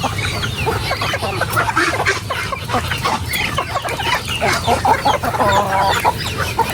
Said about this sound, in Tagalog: Magpapakan na po tayo ng manok.